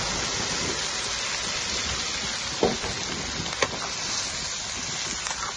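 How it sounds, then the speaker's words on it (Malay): A splash of water hits young corn frying in a hot pan, setting off a loud, continuous hiss and sizzle with a few brief clinks of utensils against the pan. "Lepas tu kita masuk air sikit"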